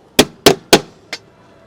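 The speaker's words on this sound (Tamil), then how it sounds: "சுத்தியல் ஆணியை வச்சு வந்து பார்த்திங்கன்னா இங்கே வந்து அடிக்க போகிறோம்" A hammer drives a nail to punch holes in metal for a homemade LPG gas stove: three sharp, loud strikes in a steady rhythm, then a fourth lighter tap, each with a short ringing decay.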